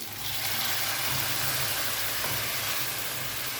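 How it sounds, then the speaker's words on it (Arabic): A cup of boiling water is poured onto chicken sautéed with onion and garlic. It brings a sudden loud, steady sizzling hiss that stays strong for several seconds. "بعد ما شوحت الفراخ كده مع البصلة والثوم بالشكل ده ودبلت البصلة، هنزل عليها بكوباية مية مغلية"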